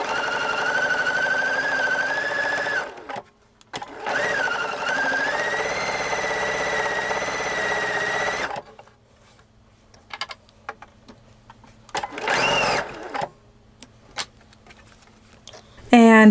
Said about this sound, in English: the next step is just to sew a 1/4 inch seam on that to finish out our square